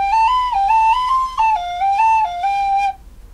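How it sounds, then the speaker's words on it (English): A penny whistle plays a short melody of clear, bright notes stepping up and down in a lilting rhythm, close and loud, ending after about three seconds. "play your penny whistle"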